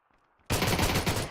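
Gunfire from a shotgun in a video game bursts in after a near-silent half second. A dense, loud volley of rapid blasts follows.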